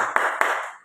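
Three distinct hand claps, sharp and close, spaced unevenly within under a second, standing alone over a quiet room during a teacher's training session.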